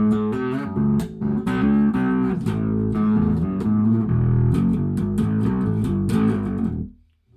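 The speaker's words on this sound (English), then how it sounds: "We roll to the back pickup, you'll notice a brighter sound, more output, definitely more distortion." Traben bass guitar played through the back pickup with a bright, distorted tone, a steady run of notes sustaining for about seven seconds before cutting off abruptly into silence.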